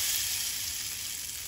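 Hot tempering poured over cooked dal for mango dal, a steady, close sizzle and crackle of frying spices lasting the whole moment, alone.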